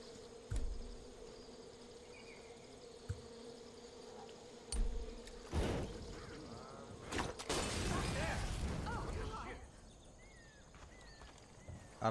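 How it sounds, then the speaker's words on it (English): Bees buzzing in Far Cry 5, a steady insect drone running through the whole stretch under game ambience, with loud bursts and rustling noises breaking in around the middle. "I hear bees."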